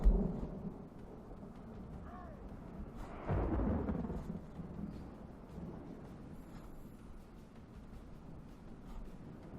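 Rain and thunder in the video game Divide & Conquer, a faint steady rain hiss with a low rumble of thunder swelling in the middle, fairly quiet throughout.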